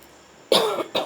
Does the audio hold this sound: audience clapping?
no